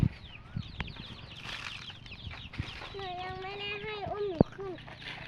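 Chickens cluck and squawk nearby in a quiet yard, with a few sharp knocks and rustles around them.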